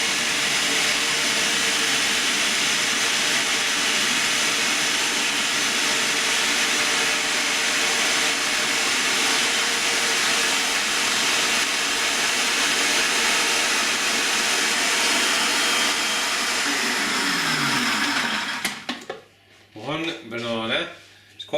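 A small blender, crammed full, whirs loudly and continuously as it purées apples, avocado and banana for a fresh mint chutney, then cuts out near the end, leaving brief quiet talk.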